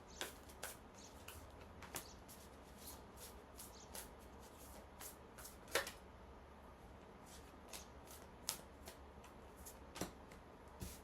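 Tarot cards are shuffled and dealt in a quiet room, giving soft scattered flicks and taps with a few sharper snaps among them against a faint steady background hum.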